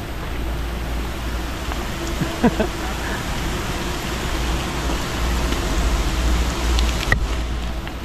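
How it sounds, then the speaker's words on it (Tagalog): Steady dense hiss of heavy rain pouring down by a river, constant and enveloping, with faint scattered knocks and a low background hum. "Lakas ng ulan."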